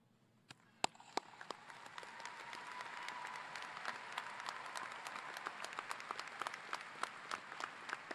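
Applause from a commencement audience honoring faculty, starting with a few scattered sharp claps and swelling within two seconds into steady, dense clapping from a large crowd that holds to the end.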